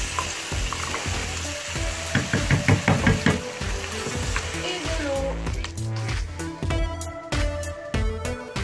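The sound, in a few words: tomato sauce being stirred and cooking in a pan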